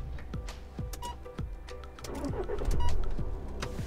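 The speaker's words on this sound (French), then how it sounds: "Tu maintiens le bouton jusqu'à temps que le moteur soit parti" A Volkswagen with Kessy keyless entry is started by holding the push button while pressing the brake: a few clicks and mechanical ticks, then the engine cranks and catches, rising to a steady running hum, close and fairly quiet.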